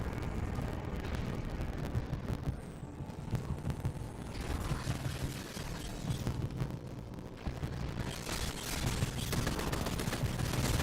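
Continuous video game gunfire and explosive rumble form a dense, steady barrage, with scattered shots and booms running throughout at moderate loudness and no voice over them.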